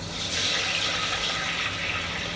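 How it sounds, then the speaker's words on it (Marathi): Water is poured into a cooking pot on a lowered gas flame for chicken gravy and rice: a steady, rushing splash and gurgle, close and continuous for the whole moment, with no voices. "गॅस कमी करायचा आणि पाणी घालायचं"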